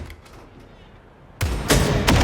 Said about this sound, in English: Is that shooting?